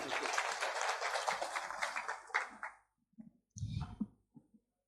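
Conference audience applauds in a hall, a dense burst of clapping for about three seconds that then breaks off into a few scattered claps and a brief rustle.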